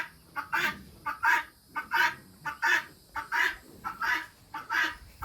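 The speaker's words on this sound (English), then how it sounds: "Those are our guinea hens." Guinea hens on a homestead call in a steady, rhythmic series of harsh, rasping two-part cries, repeated about twice a second at moderate distance while the birds feed on spilled grain near a milk cow's trough.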